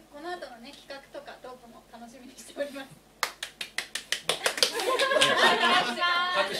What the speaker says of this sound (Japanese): 拍手が自分だけだった。